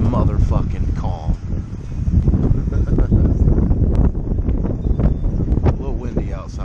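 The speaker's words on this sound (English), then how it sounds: "A little windy outside today for sure." Heavy wind buffeting the microphone with a constant low rumble outdoors in Pigeon Forge/Gatlinburg, Tennessee, while people talk underneath.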